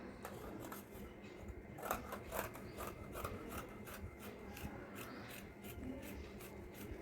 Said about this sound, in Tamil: இப்போ கட் பண்ணுறேன் பாருங்க.